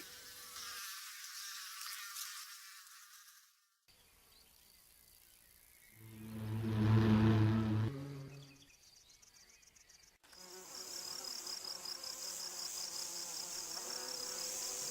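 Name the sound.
flying wasps, bees and bumblebees buzzing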